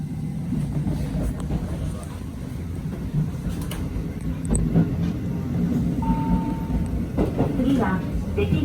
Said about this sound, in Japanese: 伊予土井駅を発車しました。